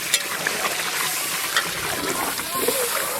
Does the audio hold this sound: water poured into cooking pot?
yes